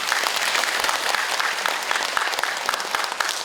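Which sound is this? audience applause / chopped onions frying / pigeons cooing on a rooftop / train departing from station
audience applause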